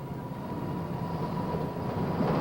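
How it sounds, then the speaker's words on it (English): A steady low rumble of a 1950s Alaska train rolling from Whittier to Anchorage, constant and fairly loud throughout, with a faint hum above it and no voices. "A modern train takes you from Whittier to Anchorage."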